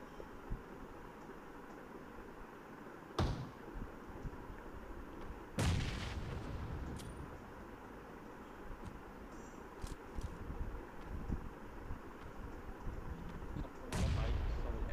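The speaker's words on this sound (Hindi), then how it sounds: "नेट जाके उसके बिल्कुल पीछे फट रहा है" Grenade blasts in the mobile battle game PUBG Mobile: a few sharp booming explosions at intervals over a steady game-noise bed, each a sudden loud burst that decays quickly, with no talking.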